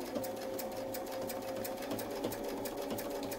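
A sewing machine fitted with a Westalee decorative ruler foot stitches steadily with a fast, even mechanical patter, close and alone throughout.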